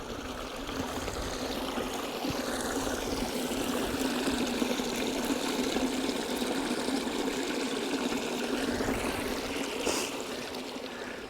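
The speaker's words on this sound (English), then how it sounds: "can you hear the water again?" Mountain stream water trickling and rushing steadily on a high mountain slope in Wicklow, Ireland, a continuous close broadband wash heard alone without talk.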